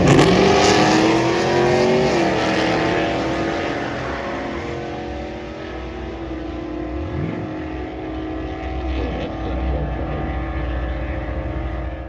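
A 1971 Pontiac Firebird Formula launches at a drag race, its V8 engine roaring loudly up through the gears, then fading slightly as the car pulls away while a steady rumble continues.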